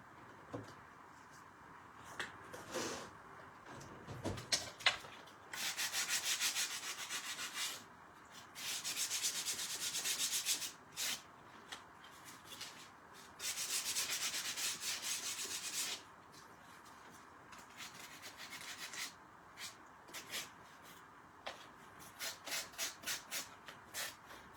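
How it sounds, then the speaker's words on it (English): Sanding a handmade wooden frame by hand, with repeated rough rubbing strokes in bursts of several seconds separated by pauses and quieter scraping, close and fairly loud, with no talk. "maybe I'm going to sand that"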